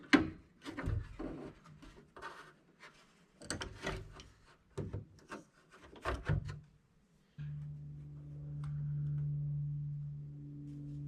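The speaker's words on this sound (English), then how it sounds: "slide the handle down into the door" A handle for a military FMTV truck door is slid down into the door, making a series of scraping, knocking and rubbing sounds with irregular bursts, followed by a steady low hum.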